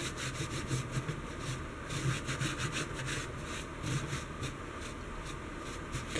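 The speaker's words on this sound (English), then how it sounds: "what I'm going to do is get a tissue here and I'm going to rub some of this away" A tissue rubbed back and forth to remove paint from a castle box, a continuous dry scrubbing sound in quick repeated strokes, close and steady with no talk.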